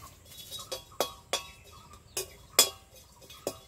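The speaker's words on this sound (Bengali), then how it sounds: "এবার আমি মশলাগুলো ভেজে নেবো" Whole fennel, dry ginger, cinnamon, cloves and cardamom dry-roasting in a wok, giving a series of sharp clinks and scrapes from stirring about every half second, close and moderately loud, with no talking.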